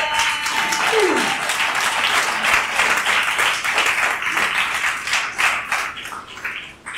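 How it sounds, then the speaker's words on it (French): Congregation applause fills a Sunday church service, a sustained ovation of many hands clapping steadily and fairly close for the whole stretch, with a brief voice heard near the start. "Et puis on peut faire une ovation encore, s'il vous plaît"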